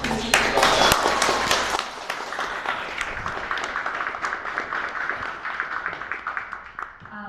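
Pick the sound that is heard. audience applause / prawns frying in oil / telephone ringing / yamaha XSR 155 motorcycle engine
audience applause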